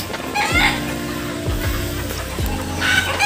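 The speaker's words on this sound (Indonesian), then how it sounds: "Nih kalkun." Several short gobbling or clucking bird calls from a turkey at a mini zoo in Jember, close and fairly loud, coming in quick repeated bursts over outdoor background noise.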